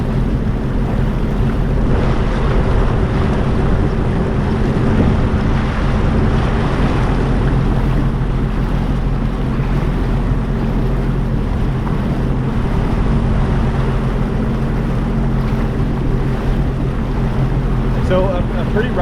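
A Sea-Doo personal watercraft cruising through Naps Narrows in about 12 feet of water gives a steady, close engine drone mixed with water rush and wind buffeting, holding constant for the whole stretch.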